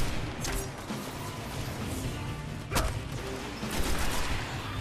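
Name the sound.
lava grenade exploding amid gunfire in the video game Destiny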